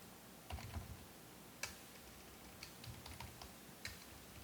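Computer keyboard typing a command on a Linux server, quiet scattered key taps in short clusters at close range with no voice.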